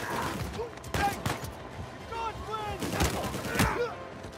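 Gunfire and a grenade blast in the shooter game Uncharted 4, with several sharp shots and bursts scattered through a busy firefight, heard alongside talk.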